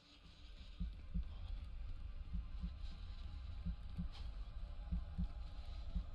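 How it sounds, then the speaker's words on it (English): Heartbeat in the survival horror video game VORAX, steady low double thumps pulsing at an even rhythm under a droning ambient hum, moderately faint with no talk. "Heartbeat's going."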